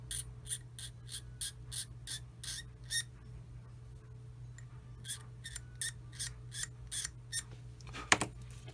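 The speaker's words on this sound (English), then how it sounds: "I'll scrape it and then I'll sand it" A blade scrapes a plastic part on a 1/35 VW Type 825 pickup scale model, with quiet, close, rhythmic strokes in two runs of short scratches and a sharp click near the end.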